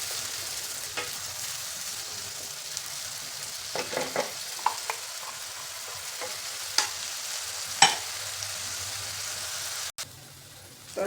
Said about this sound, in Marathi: तर टोमॅटोची पेस्ट पण छान परतलेली.